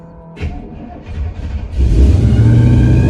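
A 1986 Chevy Silverado K10 square body pickup cranks and fires up, its engine catching and rising into a loud, steady rumble with a faint whine over the startup.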